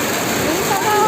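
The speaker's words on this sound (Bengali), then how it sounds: "ট্রলারে উঠে দেখি বিশাল বৃষ্টি" Heavy rain pours steadily on a trawler, a dense continuous hiss and patter of water close by, with a voice faintly present beneath it.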